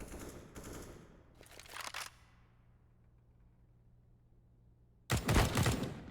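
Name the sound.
gunfire headshot in video game Counter-Strike on Mirage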